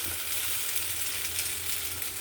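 Urotti flatbread cooks in an oiled pan, giving a steady, even sizzle and hiss close by with no talking.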